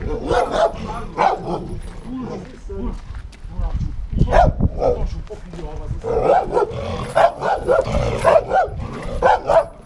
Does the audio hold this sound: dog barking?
yes